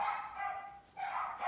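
Dogs bark at home: two loud, bright bursts of barking or yipping close by, separated by a short pause, with no talking.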